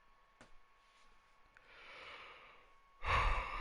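A person yawning: a soft, drawn-out breathy inhale swells gradually, then breaks into a louder, rougher exhale near the end, close to the microphone with no speech.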